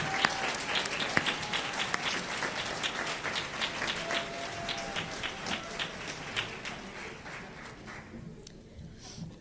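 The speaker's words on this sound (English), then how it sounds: "Let's give another big round of applause to all the students tonight who earned a point of pride" Applause at a school district board meeting honouring students, a large room of clapping that runs steadily for several seconds before fading out near the end.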